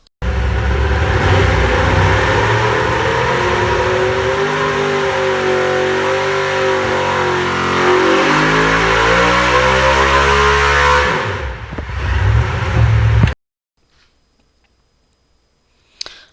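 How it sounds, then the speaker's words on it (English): A 1,200 horsepower race engine on a dyno, making over 1,200 horsepower at 8,500 RPM, roars loudly as it revs up through a full pull for about eleven seconds, then drops off and cuts to near silence. "if you are ready to hear the dyno pull"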